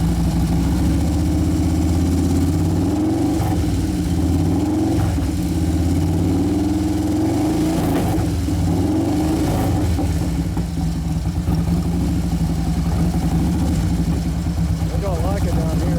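The twin cam engine of a 2011 Harley-Davidson Road Glide runs at a steady idle with a lumpy, blubbering low rumble and a few slight revs, with people talking over it.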